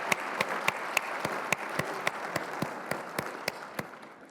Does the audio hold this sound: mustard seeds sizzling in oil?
no